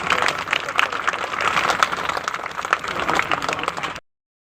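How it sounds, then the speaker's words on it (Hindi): A crowd at a panchayat public meeting in Bhore Hussepur claps steadily for about four seconds, a busy, even patter of many hands, then it stops into silence. "ताली बजा दिलूं।"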